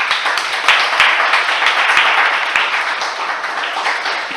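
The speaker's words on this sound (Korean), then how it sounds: "큰 박수 부탁드립니다." Audience applause after the final team presentation at a youth SDG hackathon festival, dense and sustained with sharp individual claps, loud and close throughout.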